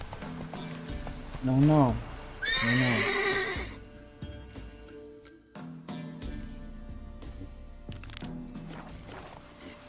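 Roach, the horse in The Witcher 3, lets out two loud, close whinnies. Its hooves then clop on as it gallops, while someone speaks briefly over it.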